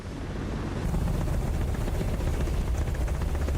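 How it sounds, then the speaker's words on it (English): A helicopter in Microsoft Flight Simulator 2024 makes a loud, steady, dense rotor and engine roar that stays constant throughout with no talking. "hopefully some helicopter experts can give me some answers on that, if that sounds right or not"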